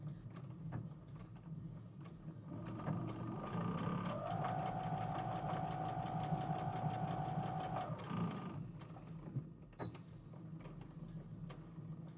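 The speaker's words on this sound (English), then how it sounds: "I'm going to go ahead and sew up 3 pieces together." A sewing machine stitches three fabric pieces together for a row in a tropics-themed quilt, a steady close whirring run of several seconds that starts and stops, with faint room noise around it.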